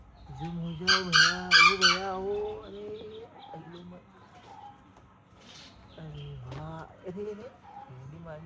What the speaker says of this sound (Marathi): बाकी काय आपल्या गावठी कोंबड्या